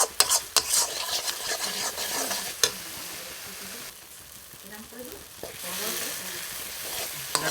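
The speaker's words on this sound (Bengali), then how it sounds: "মশলাটা ভালো করে কষে নিচ্ছি" Masala for Bihari-style mutton is stir-fried in a pan, with a soft background sizzle under sharp scrapes and clinks of a utensil against the pan, dipping quieter midway before the stirring picks up again.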